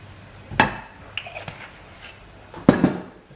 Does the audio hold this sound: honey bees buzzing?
no